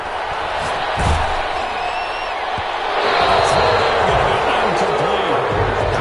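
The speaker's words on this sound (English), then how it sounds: "Some applause for the defense there." A stadium crowd at an NFL game roars and applauds the defense after a third-down incompletion by Mahomes, a broad, sustained swell of cheering that grows louder partway through, with a commentator talking over it.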